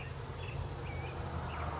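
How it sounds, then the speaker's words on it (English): Honeybees swarm around a heavy hive packed with nectar, giving a steady, faint, low droning buzz that holds evenly throughout with no voices. "And there's a lot of bees."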